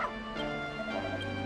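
A dog companion barks and yips a few times in Dragon Quest Builders 2, thin and game-like, under steady background music.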